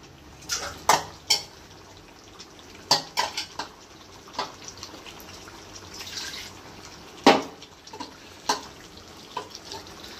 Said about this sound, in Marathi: अगदी अलगद ह्याच्याने हळुवारपणे मिक्स करायचं आहे, नाहीतर ते बोंबील आहेत ते फुटू शकतात